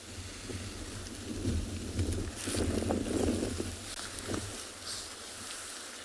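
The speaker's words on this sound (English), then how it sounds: "you guys can just listen to the wind blowing" Strong morning wind gusts roar across an open South African safari landscape, a broad steady rumble that swells into louder surges and then eases, with no voices heard.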